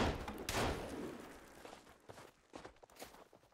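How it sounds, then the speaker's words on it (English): Scattered gunshots in Sons of the Forest, a few sharp reports at a moderate distance separated by quieter stretches, mixed with shuffling footsteps and movement. "She's still popping shots."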